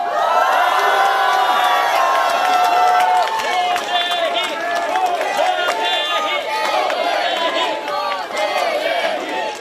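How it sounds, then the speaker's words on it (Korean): A large crowd at a Songpa election campaign rally cheers and shouts loudly, with whoops and claps rising together and staying energetic throughout, voices blending into a noisy roar. "한 분 한 분 소개해드릴 때마다 힘찬 박수와 성원 부탁드립니다"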